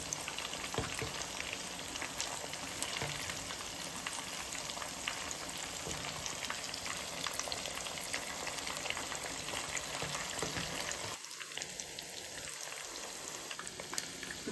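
Egg-battered chicken pakoda pieces bubble in hot oil, a soft continuous sizzle that stays even throughout with brief light handling noise near the end and no one speaking.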